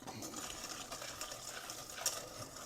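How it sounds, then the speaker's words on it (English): Spoon stirring cocoa powder into milk in a bowl for homemade chocolate pudding, a soft continuous scraping and swishing with light clinks, close and quiet with no talking. "A little bit more milk, we'll mix that together."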